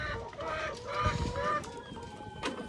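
Mardi chickens, a breed kept as crossbreeding roosters on a poultry farm, cluck and call in an overlapping, steady chorus, with a few sharper crowing notes rising above the flock.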